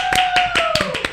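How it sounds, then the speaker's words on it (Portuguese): Brief round of hands clapping during a podcast conversation, several sharp close claps in quick succession lasting about a second. "Uma salva de palmas!"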